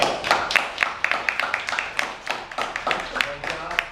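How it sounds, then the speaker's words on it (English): A small orientation group for a weight loss challenge claps for itself. The rhythmic applause comes from only a few people, with distinct individual claps heard close by and a voice murmuring underneath. "So give yourselves a round of applause."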